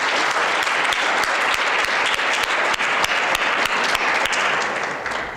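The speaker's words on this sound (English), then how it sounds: "one last big round of applause for everyone that competed and won awards tonight" A large audience at an awards ceremony gives a dense, continuous round of applause, loud and even throughout before easing slightly at the very end.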